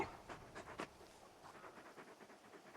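Torgal, the big wolfhound from Final Fantasy XVI, pants faintly in quick rhythmic breaths, with a few louder huffs at the start before settling into soft, steady panting.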